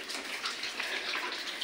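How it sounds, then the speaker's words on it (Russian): Water steadily running and splashing inside a flooded apartment, with a continuous broadband rush like a flowing tap, close and fairly loud, no voices. "В спальне вода течет."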